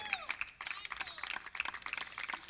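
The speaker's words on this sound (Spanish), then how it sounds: "Aplauso al Señor, amado." A congregation claps during a Spanish-language church service, a brisk, uneven patter of many hands that is fairly faint and continuous throughout.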